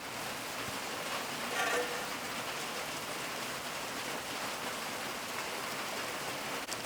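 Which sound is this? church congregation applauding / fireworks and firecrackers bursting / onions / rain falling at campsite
rain falling at campsite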